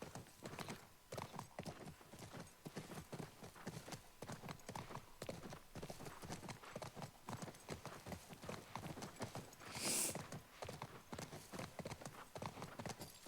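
A horse trots in The Last of Us Part I, its hooves clip-clopping in a steady, continuous rhythm, with a short neigh rising briefly partway through.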